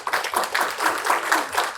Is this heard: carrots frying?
no